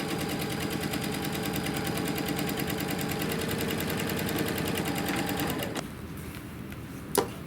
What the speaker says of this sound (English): I will sew a diagonal line